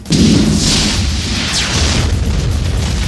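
A physical model of the White House blows apart for a film effect as a beam strikes its top, making a loud, sustained booming explosion with a dense rumbling roar that holds steady throughout.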